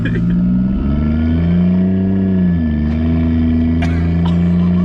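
A BMW 335 fitted with a big turbo revs in a steady, loud, close drone that climbs and dips in pitch, with a faint whistle on top and no voices.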